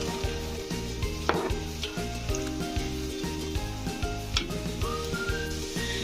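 Onion fries in a pan with a steady sizzle, mixed with scraping stirs and occasional clatter, while tonal music plays loudly over it throughout.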